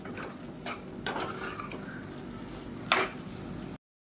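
Stirring tomato masala mixed with roasted spice powder in a pan, with a few scraping spoon strokes over a soft steady sizzle, close and moderately quiet, no talking.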